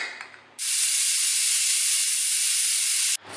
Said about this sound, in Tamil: ஒரு விசில் விட்டு அடுப்பு ஆஃப் பண்ணியாச்சு.